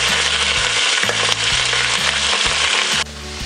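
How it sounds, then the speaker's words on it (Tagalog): Broccoli sizzles steadily as it is sautéed in a hot pan for beef with broccoli and mushroom, with periodic stirring scrapes over a continuous loud frying hiss that drops slightly near the end; no talking. "Ang purpose po dito kung kaya igigisa itong broccoli"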